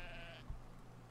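A sheep bleats briefly and faintly in the video game Brothers: A Tale of Two Sons, a short wavering cry over a low ambient game soundscape.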